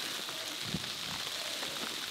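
Icy, hail-like snow falls on a wintry rabbit farm, making a faint, steady pattering hiss with a few soft ticks and no voices.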